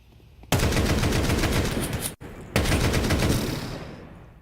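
Rapid automatic gunfire from a Counter-Strike match plays out in two loud sustained bursts separated by a brief gap, dense and close, with no talking over it.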